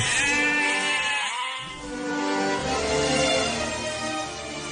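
Sheep bleat during a live Thai church nativity play, with several loud, wavering bleats overlapping almost continuously against the hall's background.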